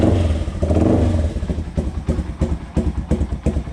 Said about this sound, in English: You can turn the idle up right here. You turn it in, it speeds up. Slows down.